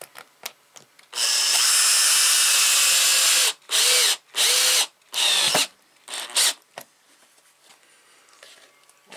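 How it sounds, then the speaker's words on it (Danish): A power drill drives screws into wood outdoors, sounding as one long loud whirring run followed by three shorter bursts, each rising and falling, with faint clicks and handling noise around them and no talking. "om jeg kunne bare lige få en skrue eller to i herude"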